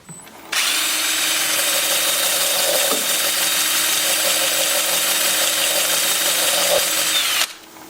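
A wood lathe spins a hollow form as it is sanded, a steady whirring drone that starts abruptly, runs loud and even, then cuts off near the end.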